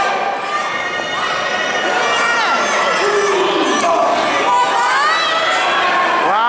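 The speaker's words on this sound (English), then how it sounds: "This crowd really trying to get behind Mike Dell." A wrestling crowd at a B.O.W. tag-team match cheers and shouts continuously, a loud dense roar of many voices with high children's yells mixed in, steady throughout with shouts rising above the din.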